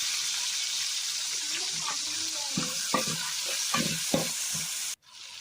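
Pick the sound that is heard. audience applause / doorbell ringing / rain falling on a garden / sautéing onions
sautéing onions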